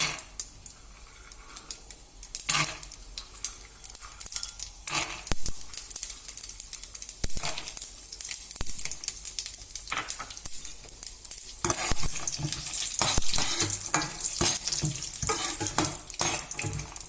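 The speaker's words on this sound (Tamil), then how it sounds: "கடுகு சூடானதுக்கு அப்புறம் முதல்ல கடலையை வறுத்துக்கலாம்." Chana dal fries with mustard seeds in hot oil for aval upma, a steady loud sizzle with scattered pops and stirring scrapes, growing denser and brighter in the later part, with no voices.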